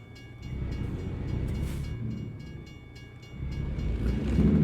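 A train rumbles past a level crossing in New Zealand, a low continuous rolling drone that swells and fades, heard from nearby with steady rail noise.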